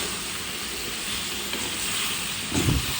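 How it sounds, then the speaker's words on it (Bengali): Sweet pumpkin sizzles in hot oil with spices as it is stirred in a pan, a constant close frying hiss with a brief scrape of the spoon near the end. "এখন মিষ্টি কুমড়াটা দিয়ে দিব দিয়ে দিয়ে সুন্দর মতো করে নাড়িয়ে তারপরে এটাকে কষাতে থাকবো"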